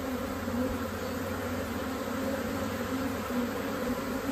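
A honeybee swarm buzzes at a hive entrance as bees fan and spread the queen's pheromone, a dense, steady, close droning hum with no break.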